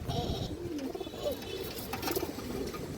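A large green-necked female pigeon cooing softly, giving a few low warbling coos close by over quiet background noise.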